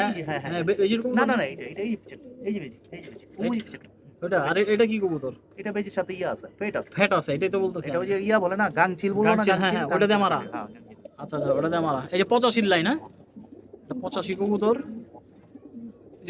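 Pigeons coo close by in repeated soft, throaty bursts, mixed with people talking nearby.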